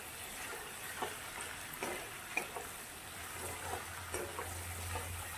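Garlic being stirred and fried in a wok gives a soft, steady sizzle with faint scraping stirs scattered through, quiet and close.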